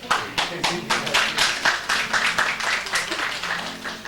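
Audience applause at a book presentation in Buenos Aires, a steady run of close, dense hand clapping filling the room.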